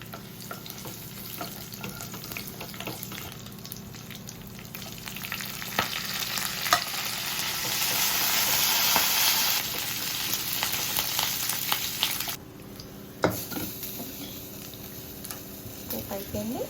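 Dried red chillies, garlic and curry leaves crackling in hot oil for a tempering over moringa dal, a steady sizzle with sharp pops and stirring clicks that swells midway, then fades.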